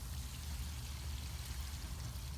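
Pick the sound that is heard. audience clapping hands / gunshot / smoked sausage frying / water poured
water poured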